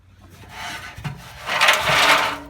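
Harsh scraping and grinding as a crowbar or hammer works at the stuck drum of a smashed Haier washer dryer, with a short knock near the start and louder rasping swelling in the second half.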